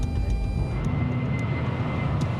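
An airplane climbs steadily after a normal takeoff, its engines giving a continuous, even, low rumbling roar heard from inside, with no pauses or voices.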